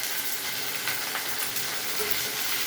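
Green chillies frying in hot oil with reddened urad dal, a loud, even crackling sizzle that carries on steadily, heard close with no speech.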